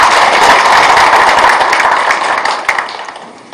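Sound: applause welcoming council chairman

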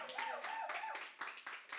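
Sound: congregation clapping

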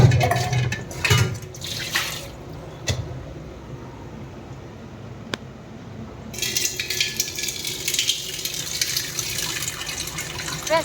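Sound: hot water poured for cooking rice

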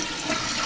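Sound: toilet flushing

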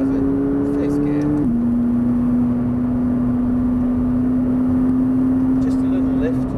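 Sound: McLaren 570S sports car engine accelerating on a race circuit

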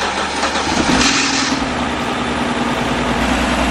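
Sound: 2011 BMW E92 car engine starting and idling

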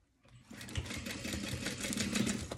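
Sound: sewing machine stitching

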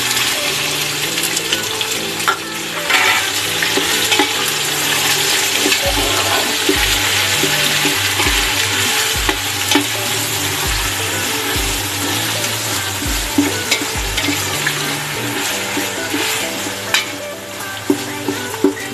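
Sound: ground pork frying in a pan

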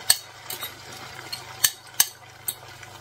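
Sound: omelette (tortilla) cooking in a frying pan

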